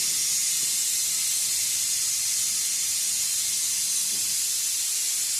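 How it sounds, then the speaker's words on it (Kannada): Steam jets from a pressure cooker whistle in a home kitchen as a constant, strong hiss, steady and unbroken for several seconds, with faint low clatter beneath. "ಕುಕ್ಕರ್ ವಿಸಿಲ್ ಆಗ್ತಾ ಉಂಟು"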